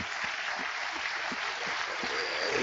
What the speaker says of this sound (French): Il mérite qu'on l'applaudisse.